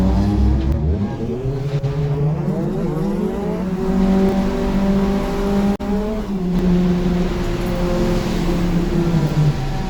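Race car powering down a track straight during a Lemons endurance race at Ridge Motorsports Park, heard from inside as a loud droning engine note climbing in pitch through the gears, with a brief dip at a shift.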